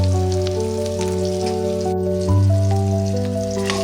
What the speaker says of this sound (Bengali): খুব লাল লাল করে ভাজার দরকার।